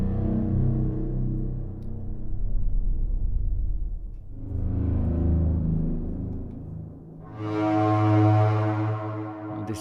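Long, loud blaring horn blasts, three sustained honks with pauses between, the last one higher and brighter.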